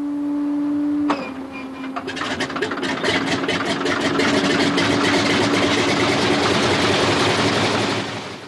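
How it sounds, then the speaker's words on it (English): Pratt & Whitney air-cooled radial engine on a de Havilland Beaver catches after a brief whine and settles into a loud, steady, throaty rumble with rapid uneven pops, close by and alone. "The sight and sound of the past, a Pratt & Whitney air-cooled radial engine. It is powering a de Havilland Beaver"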